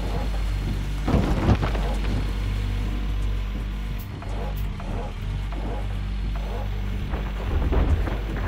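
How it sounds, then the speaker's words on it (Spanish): Steady rain patters with rolling thunder rumbling underneath in the video game Gold Rush, a continuous dense wash of downpour with heavier swells of thunder. "Sigue lloviendo, ¿eh? Ayer estaba lloviendo y hoy también."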